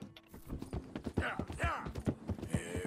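Horse hooves clip-clopping in the video game Red Dead Redemption 2, a quick uneven run of close, punchy hoof strikes with faint voices mixed in.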